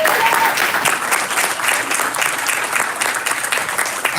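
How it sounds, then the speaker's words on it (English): An auditorium audience at a school board of education meeting gives teachers and staff a large round of applause, a loud, sustained wash of many hands clapping at close range, steady throughout with faint crowd murmur. "please give them a large round of applause"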